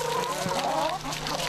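Laying hens cluck on a farm, a group of overlapping, warbling clucks and calls at close range, fairly loud and continuous with no talk.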